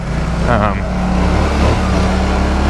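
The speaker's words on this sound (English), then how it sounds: "you can just spin the tires in this sand" A Polaris Scrambler 1000S ATV engine drones loudly and steadily while its tires spin in sand, with someone talking over the engine.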